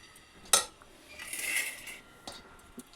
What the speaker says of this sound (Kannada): ಈಗ ಒಂದು ಸರ್ವಿಂಗ್ ಪ್ಲೇಟ್ಗೆ ಹಾಕೋಣ